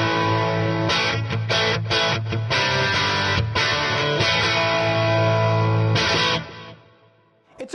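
Mesa Boogie Mark VII amplifier on its clean channel at full gain, played with single-coil pickups: a driven, gritty electric guitar riff with rhythmic chord stabs and pauses, loud and alone, ending in a ringing decay.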